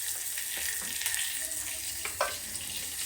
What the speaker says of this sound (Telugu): ఆయిల్లో వేగితే సరిపోతుంది